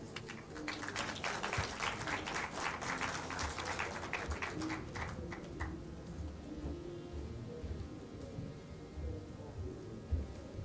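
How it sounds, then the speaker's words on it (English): An audience at a banking industry climate-disclosure launch event gives a speaker a burst of clapping that runs for about six seconds, then fades into a quiet room murmur. "Let's give him one more round of applause."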